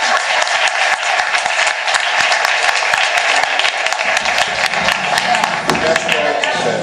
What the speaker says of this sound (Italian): per questo merita un applauso